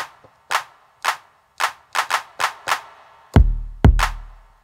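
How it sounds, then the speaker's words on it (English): Sharp electronic clap hits from a Roland SH-4d groovebox repeat in a loose rhythm, eight short snaps followed by two louder, booming hits with a low tail. "We have a clap here"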